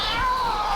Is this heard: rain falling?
no